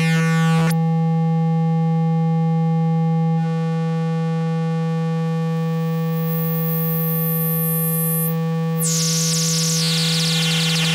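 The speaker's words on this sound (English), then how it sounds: "basic sine wave." A Eurorack synthesizer module produces a basic sine wave, a loud steady hum with a stacked harmonic buzz, briefly interrupted near the start and broken by a rising, sweeping tone near the end.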